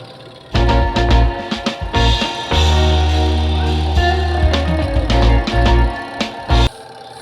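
A twin tub washing machine spin motor hums steadily with a low drone, broken by clanks and rattles at the start and end.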